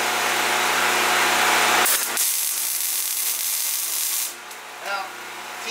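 Welding across holes in a floor to waterproof it, giving a steady broadband hiss and crackle like frying bacon that runs loud, cuts out briefly near two seconds, then resumes more softly with short breaks.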